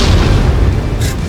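A grenade explodes in the video game Exfil Zone: a loud, dense, rumbling boom fills the short moment, with a brighter crackling burst near the end.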